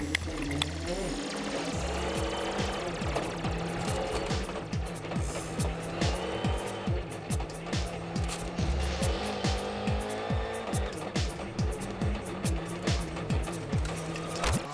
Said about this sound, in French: Sébastien Ogier va remporter cette première spéciale du Monte-Carlo